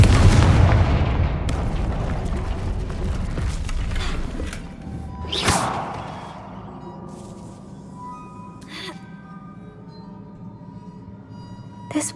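Confringo spell blasts go off in Hogwarts Legacy, a heavy booming burst up front that rumbles away, followed by a sharp crack and fainter magical impacts trailing into quiet echoes.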